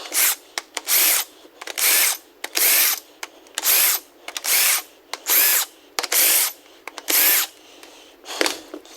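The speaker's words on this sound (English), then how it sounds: "Got one last bolt here. Get it loose." Power tool loosening a cylinder head bolt on a 6.0 Powerstroke diesel engine: loud repeated bursts of buzzing rattling impact, about a dozen pulses of under a second each, close and alone.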